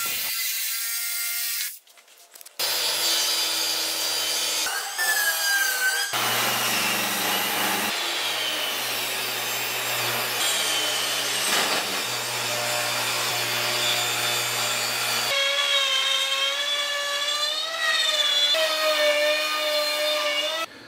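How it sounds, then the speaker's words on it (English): A jigsaw cutting a circle in wood for a projector cover, a loud, close, buzzing reciprocating cut that runs almost continuously, starting after a brief pause and shifting in pitch as the blade follows the curve. "I'm just going to have to do this the old-fashioned way and use jigsaw"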